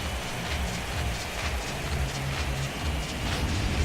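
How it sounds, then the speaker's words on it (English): Rain falling during a baseball game in MLB 17 The Show on PS4, a dense steady hiss with low rumbling stadium ambience under it, continuous and fairly loud, with no talking. "And Dan, when it comes to pitching in the rain, what changes?"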